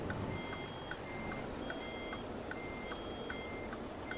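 Truck reverse alarm in the American Truck Simulator video game, repeating steady, evenly spaced electronic beeps over a constant low engine rumble, with no talk.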